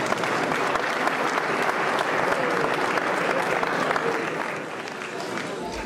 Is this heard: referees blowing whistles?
no